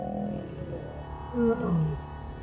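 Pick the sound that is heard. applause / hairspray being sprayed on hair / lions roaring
lions roaring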